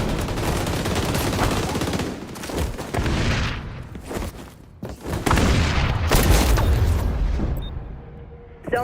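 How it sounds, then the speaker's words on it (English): Frag grenade blast mixed with rapid automatic gunfire in the PC shooter XDefiant, loud and continuous bursts of shots with booming impacts that ebb briefly and then surge again. "Deploying frag."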